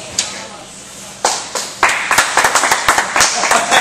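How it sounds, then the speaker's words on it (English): Office staff clap and cheer as a coworker walks in for a prank, a few scattered claps swelling into a burst of applause with voices calling out over it. "Everyone clap when he comes in."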